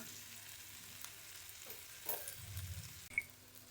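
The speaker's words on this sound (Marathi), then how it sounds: "हे सगळं मिक्स करून घेऊया" Spicy eggplant curry with crushed peanuts stirred in a pan, soft scraping and sizzling close by with a brief sharp clink near the end, no talking.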